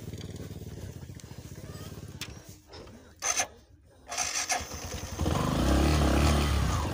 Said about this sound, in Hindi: सबसे सही तो मेरी बाइक थी, आराम से निकल गई,